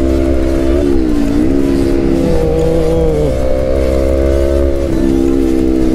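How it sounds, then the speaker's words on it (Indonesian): Several motorcycles rev and drone loudly together in a group ride, engine pitches rising and falling steadily and continuously, with no talking. "bawa motornya udah mulai pada ngegas"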